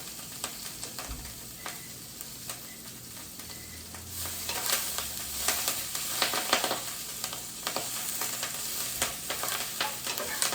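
Ingredients for creamy lemon orzo fry in a pan with a continuous close sizzle, broken by the occasional scrape or clink of stirring, and no one speaks.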